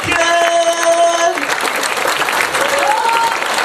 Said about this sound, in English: I think we should have another round of applause for the fabulous Mr. Kev Orkian